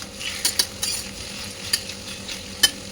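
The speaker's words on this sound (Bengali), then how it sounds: "দিয়ে আবার একটু নাড়াচাড়া করে নেবো।" Potatoes with grated ginger are stirred in a pan over a low sizzle, with several sharp scrapes and clicks of the utensil against the pan, close and fairly loud.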